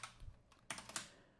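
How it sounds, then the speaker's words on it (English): Soft typing on a computer keyboard during a machine learning coding lab, a handful of light key clicks close by but very quiet, with no talking. "Let's go type"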